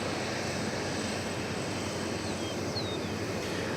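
An American Airlines jet at DFW Airport gives off a steady, broadband engine roar from a distance, constant in level for a few seconds with a faint high whine drifting across.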